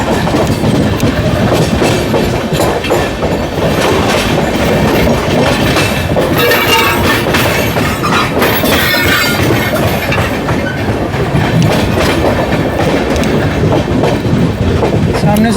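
An oncoming train passes at high speed beside a moving Amrit Bharat Express. It makes a loud, continuous, close rush and rumble with clattering wheels and a few bursts of high squealing.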